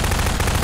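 Rapid enemy automatic gunfire from Half-Life 2, a dense, loud, continuous burst of shots filling the whole short moment with no talking.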